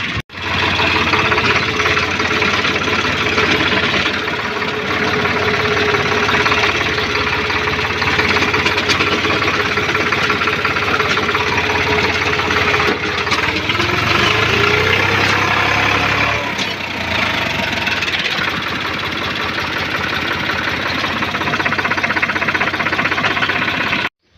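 A tractor engine runs steadily while hauling soil for digging a pit, a loud continuous mid-pitched knocking drone close by, with a brief shift in load partway through and no talk.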